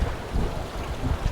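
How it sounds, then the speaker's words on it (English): Steady wind buffets the microphone on the shore of Sully Island in South Wales, a continuous low rumbling roar with gusty swells, close and fairly loud, with no voices. "it's quite windy"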